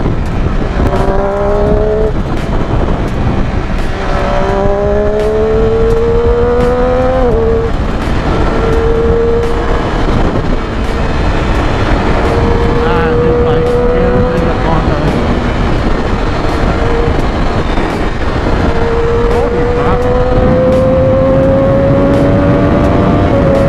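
A 2015 Triumph Daytona 675R motorcycle engine revs hard at speed, rising through the gears with a loud, continuous whine and strong wind rush, with a rider's voice talking over it at times.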